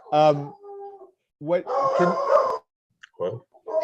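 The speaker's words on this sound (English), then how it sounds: "Sorry, I've got barking dogs." Excited dogs bark, yip and whimper in a home during an online meeting, in loud, close bursts separated by brief pauses.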